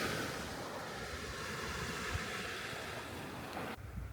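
Ocean waves wash steadily onto the west coast shore at dusk, a constant broad roar of surf with some wind rumbling close to the microphone.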